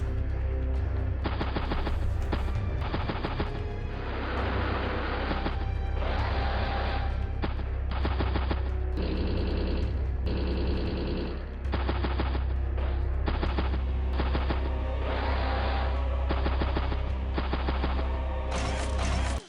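Tank and artillery fire in the Advance Wars video game, rapid bursts of gunfire repeated in loud, evenly spaced volleys over a steady low rumble.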